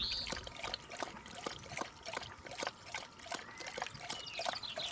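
Water trickles and drips steadily in a hot mountain setting at Montserrat near Barcelona, a close, continuous liquid dribble with small irregular splashes and faint high-pitched bird calls or chirps in the background.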